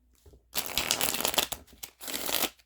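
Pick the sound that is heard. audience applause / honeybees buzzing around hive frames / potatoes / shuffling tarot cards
shuffling tarot cards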